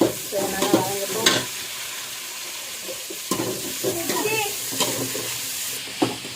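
Onions and green chillies sauté in a pan for a chicken biryani, a steady sizzle broken by repeated scraping stirs and clinks of the spoon, close and fairly loud, with no talk.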